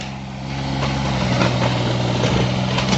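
An old Japanese Hitachi EX15 1.5-ton mini excavator runs outdoors, its diesel engine a steady, close, low rumble at idle that rises slightly and holds loud with no voices.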